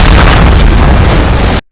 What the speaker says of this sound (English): During the explosion, you can hear a slight fart sound.